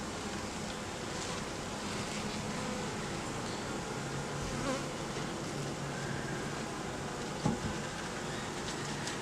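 Honeybees buzz continuously during a hive inspection in an Alaskan rainforest, a thick close hum with a brief faint knock near the end and no talk.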